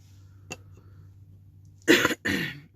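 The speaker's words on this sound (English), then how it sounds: "I still have a little bit of a cough holding on." A single faint tap, then after a pause two sharp, close coughs in quick succession.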